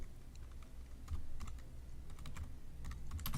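Quick, light clicking of keys on a computer keyboard, continuous and fairly quiet over a low background hum.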